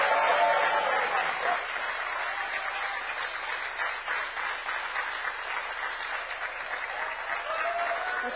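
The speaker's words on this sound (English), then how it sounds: "Please give Aisha a big round of applause" Sustained audience applause at the Africa Forward 2026 conference greets a panel moderator, the CEO of Orange Sierra Leone; steady dense clapping fills the room throughout, with a few faint voices underneath.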